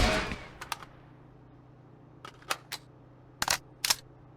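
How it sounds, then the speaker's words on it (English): A gun hip-fired without recoil control in the video game Marauders lets off a few short clusters of sharp shots separated by pauses. The shots are close and crisp over a faint steady hum. "Hip firing, no recoil control."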